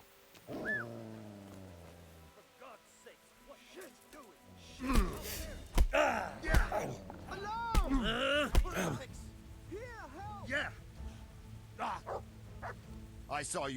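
A dog in a video game barks and whimpers in short, uneven bursts mixed with groans and sighs, while voices talk over and around it.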